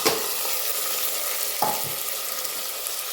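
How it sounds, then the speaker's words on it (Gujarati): Soaked lentils drop into a sizzling tempering of oil with asafoetida and turmeric for valni dal, a steady close fry hiss with a sharp burst near the middle as more goes in, then stirring; no talk. "હવે જે આપણે દાળ પલાળી હતી એ એડ કરી દઈશું"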